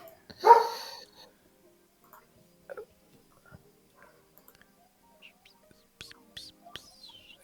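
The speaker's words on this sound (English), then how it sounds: "There's lots of dogs out there, ladies and gentlemen." Outdoors in Fiji, one dog gives a single loud bark close by. Quiet stretches follow, with scattered faint knocks and a few bird chirps toward the end.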